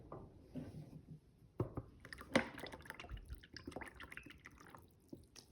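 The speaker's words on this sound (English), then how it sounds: "I'm just going to rinse it out really quick with water" An old t-shirt rinsed out under water gives close, faint wet splashes and irregular drips, with small sharp drops and trickles scattered unevenly through a quiet room.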